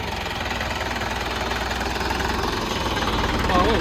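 A tractor engine idles close by on a farm with a wet field, giving a loud, steady throbbing chug with a faint knocking pulse that runs unbroken throughout.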